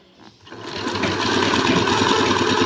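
Sewing machine stitching piping onto fabric, starting up after a brief quiet moment and then running in a fast, steady, loud mechanical whir up close.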